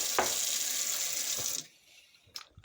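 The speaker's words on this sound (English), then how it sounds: "I'm going to do probably 3, 4, 5, 6 cups of cold water" Cold water runs from a kitchen tap into a cup for cooking, a steady close splashing hiss that stops abruptly, followed by a faint clink.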